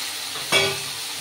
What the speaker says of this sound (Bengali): এটা নিয়ে একটু কষিয়ে অল্প একটু জল দেবো, নাহলে মশলাটা পুড়ে যাচ্ছে।